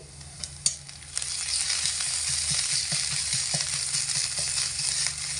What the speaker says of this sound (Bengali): তেলের মধ্যে আদাটা আমি এখানে দিয়ে দিলাম